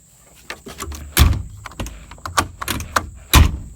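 A Wacker Neuson ET20 excavator cab door is worked, giving a string of sharp clunks, latches and rattles, the loudest knocks at the start and end, close and without talk.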